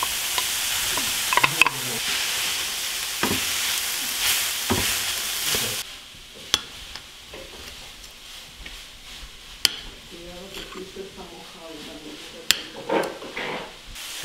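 Meat frying in a pan with garlic and onion as Argentine empanada filling, a broad sizzle loud at first, then dropping to a quieter crackle with scattered stirring clicks and scrapes; a voice is briefly heard.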